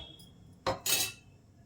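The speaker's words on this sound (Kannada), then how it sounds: "ಈಗ ಕುಕ್ಕರ್ ಕ್ಯಾಪ್ ಹಾಕಿದ್ದೀನಿ" A pressure cooker lid being set in place while cooking cowpea gravy, heard as two quick metallic clanks in close succession, faint and near, with quiet around them.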